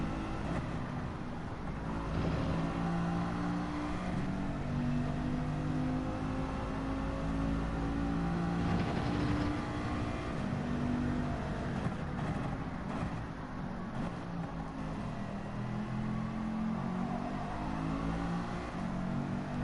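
A racing car engine in the video game Gran Turismo 7 revs hard and continuously, its pitch rising and falling through gear changes, loud and steady throughout.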